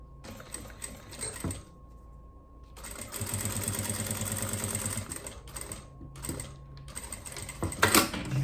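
A sewing machine stitches a seam on a fabric toiletry bag, running in bursts with short stops between, its rapid mechanical rattle rising and falling close by, with a few clicks and handling noises.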